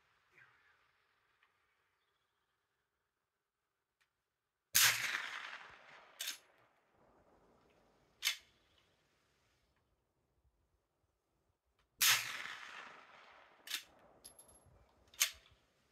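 Shots from a homemade straight-pull 9mm rifle at a range: two loud cracks several seconds apart, each followed by sharp mechanical clacks of the action, with near silence between.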